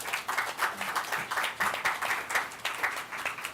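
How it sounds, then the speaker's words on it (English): An audience at the CAF Ocean Day pavilion event applauds in a soft, somewhat distant patter of clapping that rises and falls steadily without voices. "let's just bring in a big applause for CAF for supporting the ocean"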